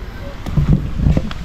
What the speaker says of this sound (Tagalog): Because of the strong wind.